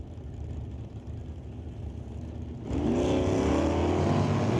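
Two drag racing cars, a Datsun and a Cutlass, launch off the line at a drag strip; a steady engine rumble jumps into a loud, sustained roar partway through.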